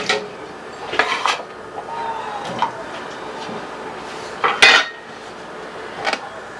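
Cut potato pieces drop into a heavy saucepan in a few separate clattering knocks and scrapes of metal, close and sharp against a quiet kitchen background.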